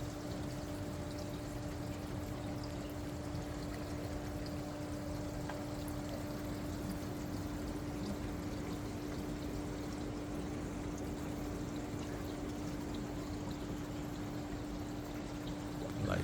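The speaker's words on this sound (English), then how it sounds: "Plenty of water movement in this tank." Water circulating in a 90-gallon freshwater planted aquarium, a constant close wash of bubbling and flow with a steady hum from the filter or pump, no voices.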